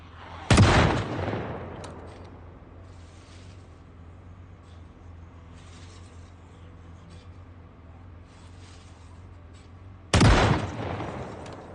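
Two loud gunshots in the zombie survival game Project Zomboid, one at the start and one near the end, each sharp and echoing, with a quiet ambient stretch between them.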